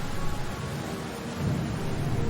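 A thunderstorm with heavy rain rumbles as a sound effect in a Hindi bedtime story, a steady broadband wash with a low thunder swell building in the second half, no voices.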